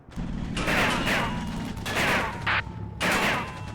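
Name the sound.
heavy machine gun fire in video game Combat Mission Final Blitzkrieg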